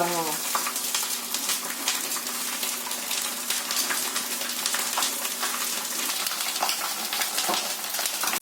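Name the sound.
nylon sabudana (sago) frying in a pan for chivda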